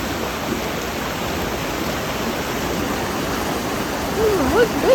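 A small waterfall on a rural property rushes quickly in a steady, full broadband roar, close and constant throughout, with a faint bird chirp near the end.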